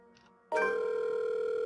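Phone dial tone in the horror visual novel The Letter: a faint low tone and brief blip, then a loud steady electronic hum that holds without a break.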